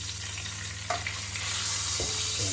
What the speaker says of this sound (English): Should have a big sizzle when it comes out.